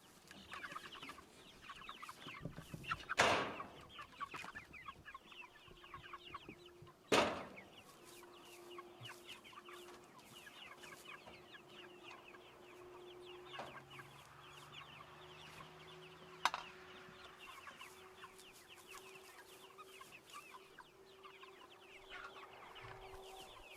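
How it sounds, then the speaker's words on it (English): Cornish Cross meat chickens clucking steadily around feeding time outdoors, a soft continuous chorus of many birds at moderate distance, with a few sharper louder calls breaking through. "Here comes Gary with feed for the chickens"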